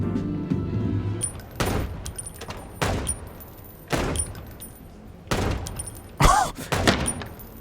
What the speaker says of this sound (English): Let's shoot some shit.